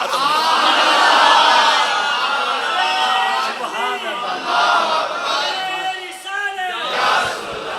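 Loud crowd of worshippers at a Friday sermon roaring a religious slogan together, a massed chant swelling and falling in repeated bursts, close and dense, with voices shouting over it.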